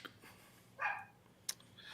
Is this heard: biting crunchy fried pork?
no